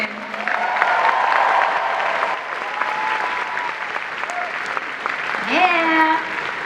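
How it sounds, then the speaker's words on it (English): A large convention-hall crowd applauds steadily for a film director at a Wonder Woman panel, loud dense clapping with cheers and voices mixed in throughout. "Give him a round of applause"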